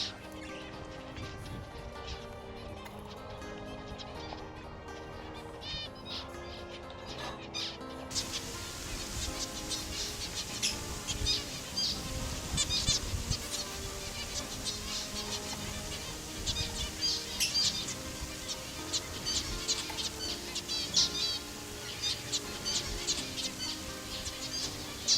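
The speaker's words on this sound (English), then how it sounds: "This is a plumhead finch, and often the plumheads, zebras and double-barred finches are found at the same vicinity." Wild zebra finches and a plumhead finch in a drought-stricken setting, with busy high chirps and buzzy insect-like calls chattering continuously at moderate distance throughout.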